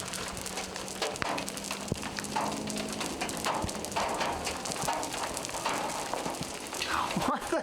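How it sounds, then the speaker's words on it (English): Large hailstones pelt the ground and surfaces at a volcano campsite, a dense, steady patter of many sharp impacts close by, with occasional louder knocks and a brief voice near the end. "Yeah, but it's hailing."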